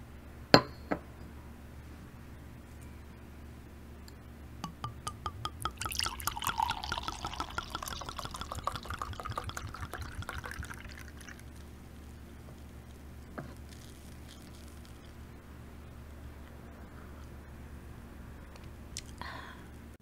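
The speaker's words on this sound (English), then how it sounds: "Glass of wine number 2" Wine poured into a glass, a burst of liquid patter and glugging lasting several seconds with faint clinks before and after, close and fairly quiet against a steady low hum.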